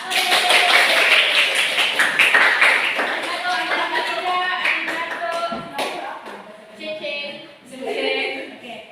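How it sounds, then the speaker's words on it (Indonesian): A classroom group claps hands together, loud and dense at first, then thinning into scattered taps and fading bursts toward the end. "ayo kita tepuk tangan dulu untuk kelompok Jepang, Singapura, dan juga Korea Selatan"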